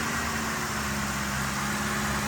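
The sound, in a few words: truck engine running after being started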